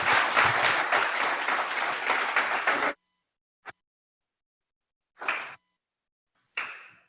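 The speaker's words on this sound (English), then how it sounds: "Please give Chris a warm round of applause." An audience at a meetup claps for a presenter in a short burst of about three seconds. It stops abruptly, followed by a single clap and two brief scattered claps after pauses of silence.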